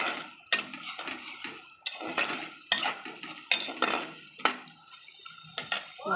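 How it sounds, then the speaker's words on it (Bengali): Spices fry in a pan on a high gas flame along with melting tomato and dried red chillies, while a spoon scrapes and stirs in repeated sharp clatters over a soft sizzle, and no one speaks. "মশলাটা ভাজা হোক বন্ধুরা।"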